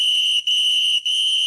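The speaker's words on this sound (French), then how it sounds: "Il est temps de siffler la fin de cette émission." A referee's whistle blown sharply three times in quick succession, loud and piercing, each blast separated by a short gap, closing a French PSG football talk show with no voices over it.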